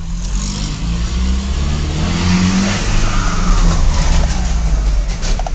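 VW Delivery truck with a turbo, its engine revving loudly and roaring close by for several seconds, a high turbo whistle riding over the deep engine tone.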